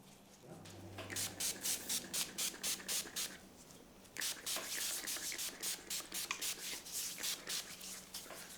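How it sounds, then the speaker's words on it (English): Mandarin spritz sprayed onto feet during a foot restoration: a quiet run of short, hissing mist bursts in a regular rhythm, close up, with a brief pause midway before the pumping resumes. "I then sprayed the feet with quesos, mandarin spritz to clean the dust and sanitize the feet."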